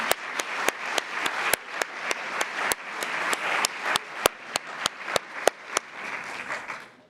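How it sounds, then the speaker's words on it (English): Audience applause in a conference hall during a day of talks on museum storage, a steady wash of clapping with many sharp individual claps standing out, sustained for about seven seconds before thinning slightly at the end. "ça mérite des applaudissements."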